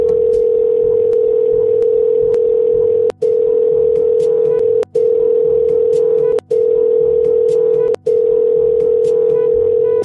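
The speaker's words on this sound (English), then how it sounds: "I dialed the telephone to call Grandma and Grandpa." A telephone line gives a loud, steady electronic tone that runs continuously and breaks off briefly four times at roughly regular intervals, with no voices.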